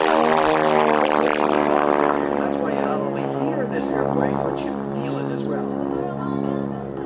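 Propeller aircraft flying at the Aerospace Valley Airshow at Edwards AFB, giving a loud, steady engine drone with strong harmonic tones that holds throughout and eases slightly near the end.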